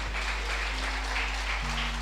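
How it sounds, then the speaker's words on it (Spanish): Congregation clapping together during a church service, a steady dense wash of applause that holds evenly throughout, with a low hum beneath it. "Dale un aplauso al Señor."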